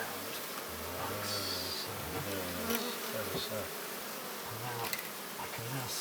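A swarm of bees buzzes steadily while being removed from inside a museum building. The drone is dense and continuous, with a few individual bees sweeping in and out close by.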